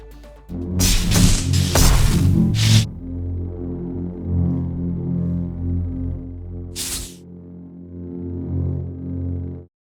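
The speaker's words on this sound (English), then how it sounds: "Let's hear the raw lightsaber's sound." A humming electronic lightsaber drone with sharp swishing swings near the start and another whoosh later, the buzzing hum sustained throughout, loud and alone.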